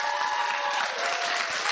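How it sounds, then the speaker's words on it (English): Dense audience applause at a LeakyCon Harry Potter fan convention Q&A, a close, continuous wash of many hands clapping with a faint crowd murmur underneath and no talking. "Give yourself a round of applause."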